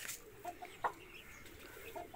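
A hen in a mini zoo gives a few short, soft clucks at a moderate distance, with a quiet outdoor background and no talking.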